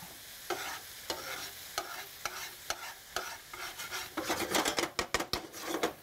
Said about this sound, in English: I'm just using water today to deglaze that pan, and all that means is try and get everything off the bottom of the pan